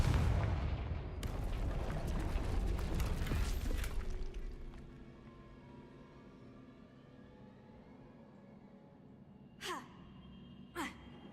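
A Confringo blasting-spell explosion in a Harry Potter video game bursts loudly with a rumbling blast that decays over a few seconds, followed later by two short sharp whooshing impacts.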